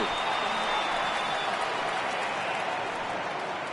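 Stadium crowd roaring in the baseball video game MLB 18 The Show, with around 35,000 fans on their feet at Seattle for an Angels game, a dense steady wash of cheering that holds loud and unbroken throughout.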